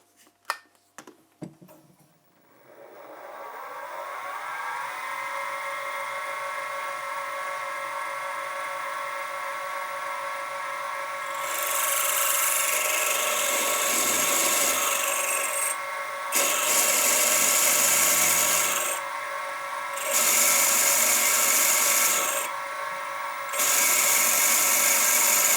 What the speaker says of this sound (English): now I'm going to drill it with the 3/16 of an inch.